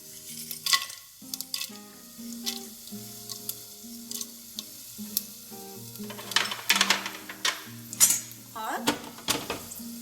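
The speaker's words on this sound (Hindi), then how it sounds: "मैंने सरसों का तेल डाल दिया और अब उसमें हम डालेंगे सबसे पहले हमारा जीरा" Cumin and whole spices crackle and sizzle in hot mustard oil, with faint frying hiss under frequent clinks of a metal spoon stirring against the pan, fairly quiet and close.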